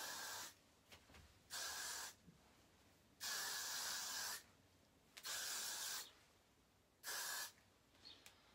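Glue spray from an aerosol can is sprayed onto hair in five or six separate close, loud hissing bursts, each lasting roughly half a second to a second, with short quiet gaps between them.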